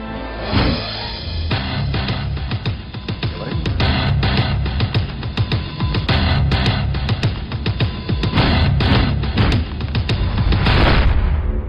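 Gunfire in a Telugu film scene, a dense barrage of loud booming shots and bursts packed tightly across the whole stretch, with no talk.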